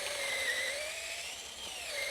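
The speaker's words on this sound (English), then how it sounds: "I give the stepped bit a chance to do its job. So I drill this hole" A stepped drill bit bores a hole in hard white oak, held in a clamped jig, producing a steady high whine that holds close and loud with no speech.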